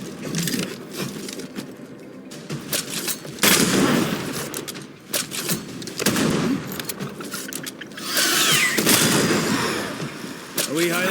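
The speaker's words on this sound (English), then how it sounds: "That corpse is gonna shoot." Gunfire in Banishers: Ghosts of New Eden, a dense, noisy run of shots and crackling impacts that comes in repeated bursts over the whole stretch, loud and close amid other combat sounds.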